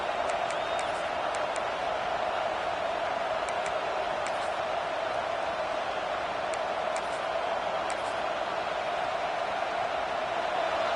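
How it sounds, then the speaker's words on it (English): A steady stadium crowd roars in a video game football match, a broad continuous wash of cheering and noise held at an even level throughout, with faint ticks scattered over the top and no voices standing out. "This crowd, full throat, splitting the eardrums and letting them know it's going to be a long day"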